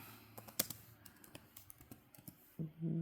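Someone types a short note on a computer keyboard, quiet irregular key taps and clicks in a close, soft burst, ending in a brief muffled tone.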